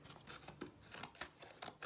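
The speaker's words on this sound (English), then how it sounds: "keep my scissors in, and carefully cut" Scissors snip through a green paper plate in a quiet series of close, crisp cuts, evenly spaced and alone with no talk.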